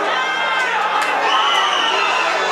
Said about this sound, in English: The crowd just chanting Aldo